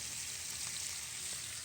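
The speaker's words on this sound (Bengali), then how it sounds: "মাছ ভাজা হচ্ছে" Fish frying in a pan on a stove during early morning cooking, a steady, dense sizzle that stays close and even throughout, with no talking.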